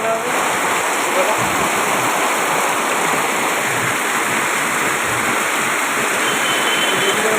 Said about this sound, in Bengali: এই যে বৃষ্টিটা পড়ছে